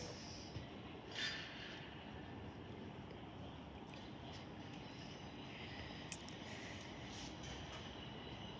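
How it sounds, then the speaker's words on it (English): A passenger train moves through Derby station with a low, steady rumble and faint wheel squeals, quiet and distant, with no voices. "This train is formed of 3 coaches"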